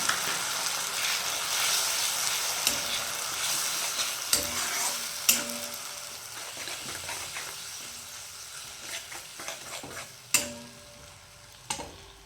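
Ginger, garlic and tomato paste hits a hot pan for a Bengali chana masala, giving a steady broadband sizzle with occasional sharp clinks and scrapes of stirring; close and continuous, no talking.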